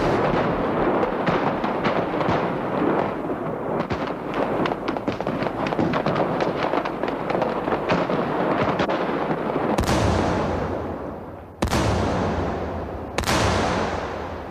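Rocket-propelled grenade and gunfire attack on a motorcade, recorded by an attacker: a dense, continuous crackle of rapid gunfire and blasts, followed by three sharp, loud explosive bangs near the end.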